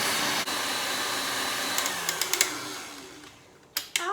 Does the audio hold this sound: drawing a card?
no